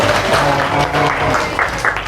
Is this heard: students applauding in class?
yes